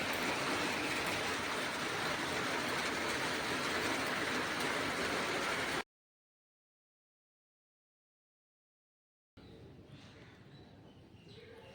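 Morning rain falls on a rooftop as a dense, steady hiss for about six seconds, then cuts to silence before a quieter stretch of the same wash returns.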